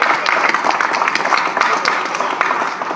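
Audience at a boxing press conference clapping steadily in a dense, continuous patter of many hands, moderately loud, with a faint murmur of voices mixed in.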